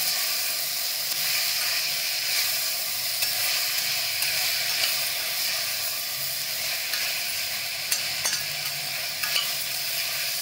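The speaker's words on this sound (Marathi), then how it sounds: "मोड आलेली मटकी टाकून देते. हे पण परतून घ्यायचं चांगलं." Sprouted moth beans (matki) being sautéed in a pan, a steady close sizzle with occasional scraping stirs and a few sharp clicks near the end, no talking.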